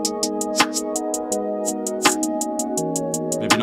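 A hard trap beat run through an Effect Tricks stutter plugin, with sustained synth chords chopped by rapid, evenly spaced hi-hat bursts and punchy drum hits repeating in a tight loop, heard alone.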